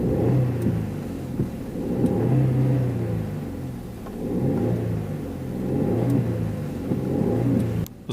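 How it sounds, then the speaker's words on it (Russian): A 2018 Skoda Rapid four-cylinder engine revs in steady waves, rising and falling several times with a continuous mid-pitched whir and rumble, no voices. "Послушайте, пожалуйста, как звучит тачка."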